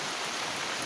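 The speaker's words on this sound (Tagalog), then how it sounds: "baka mabasa ng ulan" Rain comes down in a constant soft wash, a faint, uniform patter and hiss with no talking heard.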